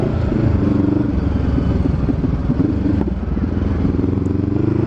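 Honda CBR500R motorcycle engine roaring close by under acceleration, a loud, steady, continuous drone with no voices over it.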